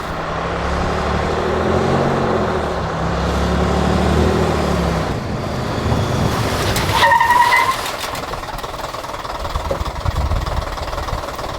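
A London double-decker bus, its foot brake valve repaired and air bled from the brake system, brakes hard on the road with all six wheels locking; a rumbling engine drone gives way to a brief tyre squeal and scrub near the middle.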